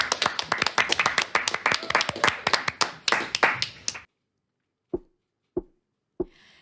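A small studio audience claps for a singer at a radio live-music session, a close, lively patter of hands that stops abruptly, followed by three isolated single claps spaced apart.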